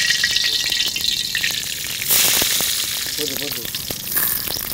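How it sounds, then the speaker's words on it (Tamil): Mustard seeds crackle and sizzle in hot oil for a lemon rice tempering, a dense, steady frying hiss with sharp pops throughout, close and fairly loud, swelling brighter midway, with no talk. "ஆயில் ஹீட் ஆயிடுச்சுப்பா, அது கடுகு"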